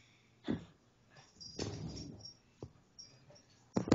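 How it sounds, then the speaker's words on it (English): An excited, hyper dog whimpers, huffs and gives short yips indoors at night, in scattered bursts that are close but fairly quiet. "Dog is going nuts tonight."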